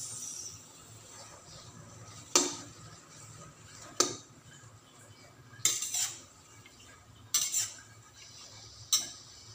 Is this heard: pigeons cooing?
no